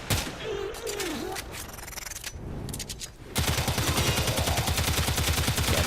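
Stradavar Prime rifle firing on full auto in Warframe, a rapid, steady stream of loud close shots over the last few seconds, preceded by scattered game effects and a brief voice.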